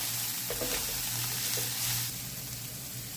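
Grated coconut sautéing with garam masala in a pan as a snack filling, a soft, steady sizzle close by with a few faint stirring scrapes.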